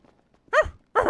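Dog in the video game GTA 5 gives two quick, close barks about half a second apart, sharp and clear against a quiet background.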